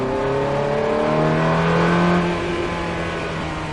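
A Ferrari F430 accelerates hard on a track, heard from inside the car: a loud, rising engine howl builds steadily, then eases slightly.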